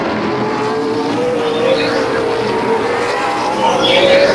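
Ontario Outlaw Super Late Model race cars roaring around Peterborough Speedway, a steady loud blend of engines with rising and falling pitch sweeps as cars pass, dense and continuous throughout.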